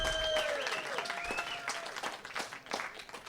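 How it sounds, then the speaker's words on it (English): A forum audience applauds a keynote speaker, the clapping dense and lively at first, then thinning into scattered claps, with a few whistles near the start. "A round of applause for him."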